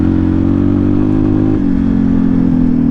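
An XT motorcycle riding on snow and black ice in low gearing gives a steady, close, loud engine drone that holds an even pitch and then steps slightly lower partway through.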